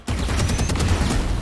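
Rapid gunfire bursts from a first-person shooter match in Valorant, loud and dense, with repeated shots crackling over a low rumble for over a second.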